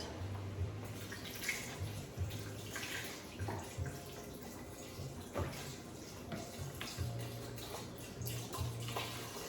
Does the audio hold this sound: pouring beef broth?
yes